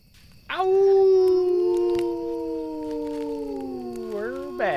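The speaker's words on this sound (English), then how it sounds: "I love how long the howl draws on." A long, drawn-out howl sound effect that rises sharply, holds a steady wavering tone for about four seconds and slowly sags in pitch before a brief yelp at the end, loud and close.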